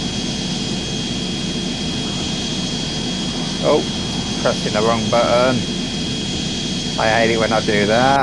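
An airliner's jet engines in the Airplane Flight Simulator Evo game give a steady whining roar with a high tone throughout, while someone talks briefly over it.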